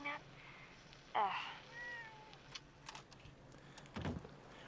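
Cats meowing in a video game, a couple of short mewing calls rising out of quiet in-game ambience, with a brief louder burst near the end.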